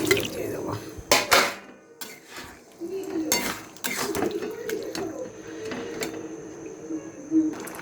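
Boiled chana being tipped into a hot kadai of chana masala with potatoes, giving several sharp clattering knocks of utensil on metal pan amid a steady low bubbling and stirring, close and fairly loud, with no talk.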